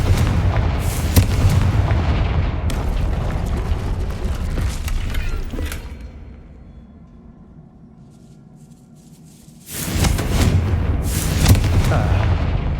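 Blasting spell cast in Hogwarts Legacy: loud booming bursts and crashing debris dominate, falling to a quieter lull before another heavy blast erupts near the end.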